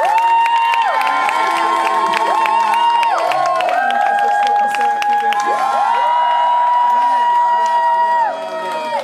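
A church congregation cheers and acclaims loudly and continuously, with crowd shouts, whoops and excited voices blending into a dense, sustained roar that fades slightly at the end.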